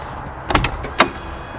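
A motorhome entry door on a 2021 Showhauler Expedition 4x4 crew cab coach opens with two sharp mechanical clunks about half a second apart, close by, with no talking.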